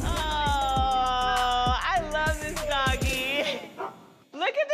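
A puppy barks and yips close by in a rapid string of loud, high-pitched calls that trail off into softer whimpers, with voices around it.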